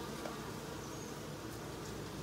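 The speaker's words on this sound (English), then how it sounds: "Here's the honeycomb. There's bees all over it." A steady, soft buzzing of many bees swarming close by around a honeycomb, continuous and unbroken, with no voices.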